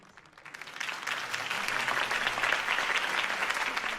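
Crowd applause rises quickly and holds as a dense, steady clapping wash from a rally audience in a Batman Telltale game scene, fairly faint and distant with no voices over it.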